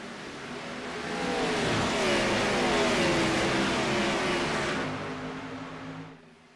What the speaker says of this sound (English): Firing up the engines again and firing them on down.